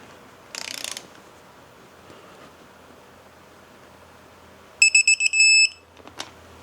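Torque wrench tightening a bolt to 7.4 foot-pounds, a short ratcheting rattle followed later by a series of loud electronic beeps signalling the set torque, with a final click, close and clear with no talking.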